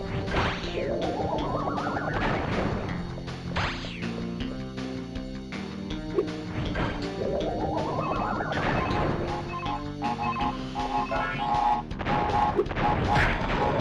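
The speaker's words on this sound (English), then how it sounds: "Aku Aku and Uka Uka will clash directly where you're standing. Now, thankfully, this attack doesn't hurt you. The resulting explosion, however," Video game boss fight in Crash Bandicoot 3: Warped, where Aku Aku and Uka Uka collide and set off a blast; loud crashing impacts and whooshing effects repeat over a busy music score with no talk.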